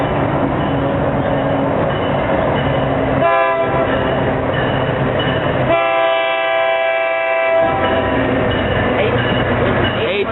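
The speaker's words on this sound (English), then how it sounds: "Southbound Tri-Rail coming." Southbound Tri-Rail commuter train, a four-car consist with diesel locomotive, passing close by with a steady rumble and two loud horn blasts, the second one longer.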